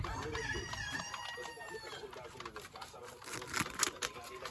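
Laying hens cluck and call nearby, a rooster joining in, with faint background noise and some indistinct sounds around them.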